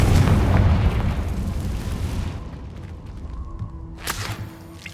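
A Confringo blasting spell explodes in Hogwarts Legacy, a loud booming burst that rumbles and fades over a few seconds, followed by a faint magical chime and crackle.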